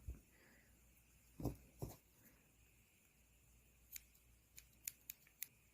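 Scissors trimming the seam allowance of sewn summer dress fabric close to the stitching line: a couple of louder snips early, then a run of quick, light, crisp cuts, close-up in a quiet room.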